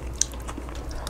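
Close, soft bites and chewing of a Dos Toros keto bowl, with one sharp crunchy bite followed by quiet moist mastication over about a second.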